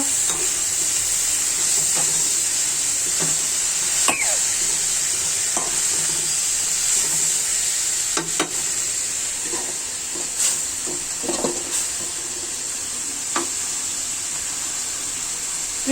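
Onion, garlic and ginger frying in hot oil, a loud steady sizzle close by, broken by scattered clicks and scrapes as a utensil stirs the pan, with no talking.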